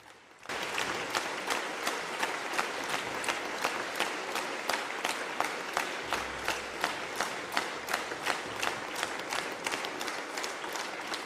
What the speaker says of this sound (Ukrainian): Виступ Володимира Зеленського неодноразово обривали гучні оплески.